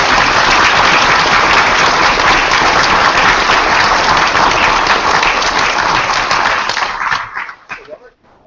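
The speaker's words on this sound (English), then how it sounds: "The biggest round of applause ever, please." Loud sustained applause from a conference audience at a closing keynote, dense clapping filling the room for several seconds before tapering off into a few scattered claps.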